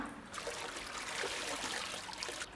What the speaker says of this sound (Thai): เราก็เทน้ำเปล่าลงในแก้วนะคะ ในปริมาณที่เท่าๆกันนะคะ